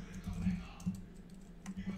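Fingers type code on a computer keyboard in quick bursts of close, crisp key clicks with brief pauses between them, and no voice over them.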